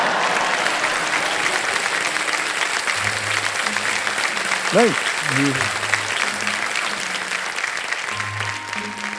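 Studio audience applause on Kaun Banega Crorepati, sustained clapping from a large crowd filling the whole stretch, with a host's voice and short musical stings rising over it.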